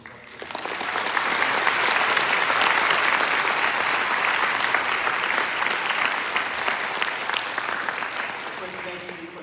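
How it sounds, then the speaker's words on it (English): Sustained audience applause fills a graduation ceremony, a dense, loud wash of clapping from a large crowd that swells quickly and holds steady for several seconds before tapering slightly. "give a round of applause for all the staff members who helped"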